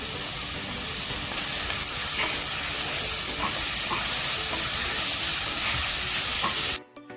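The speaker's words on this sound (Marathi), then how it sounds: "आपण परतून घेऊया दोन बारीक चिरून घेतलेले कांदे दहा बारा कढीपत्त्याची पानं" Finely chopped onions and curry leaves sauté in a hot oil tempering for a village-style chicken rassa, giving a loud, steady hiss that runs unbroken for about seven seconds before cutting off abruptly.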